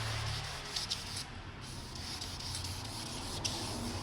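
Buffing after sandpaper sanding makes a steady, soft, even rubbing hiss that runs continuously up close, with no talk.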